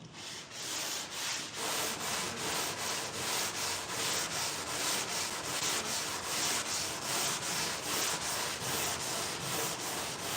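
Steady back-and-forth block sanding on a car body, rhythmic abrasive strokes repeating about twice a second, close and continuous with no talking.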